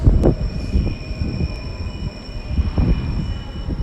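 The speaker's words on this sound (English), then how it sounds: "another IET and another TfL train coming in" IET and TfL trains pulling into London Paddington station, a faint rumbling approach with soft clatters and a few brief squeaks over steady station hum, heard at a distance.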